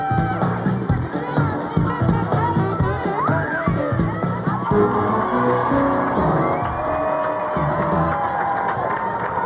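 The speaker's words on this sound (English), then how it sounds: "Huge crowd of people out here at the Great Minnesota Get-Together." Large crowd at the Minnesota State Fair, a dense, steady roar of chatter, shouts and cheering that fills the whole stretch at close range, with voices talking amid the din.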